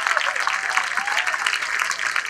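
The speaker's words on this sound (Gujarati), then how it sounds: "આ તાળીઓ એના પ્રયત્ન માટે છે." An audience claps at a literature festival talk, with steady, dense applause from a large crowd that holds at an even level throughout.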